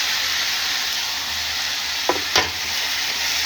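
Five large tomatoes frying in hot oil for a tomato kuzhambu, a steady loud sizzle with a couple of brief stirring scrapes partway through.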